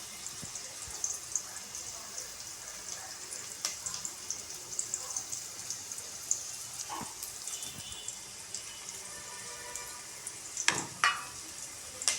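Fish ball curry (kuzhambu) bubbling in a pot with separated oil: a soft continuous sizzle and simmer, with occasional stirring clinks and splashes, fairly quiet and close.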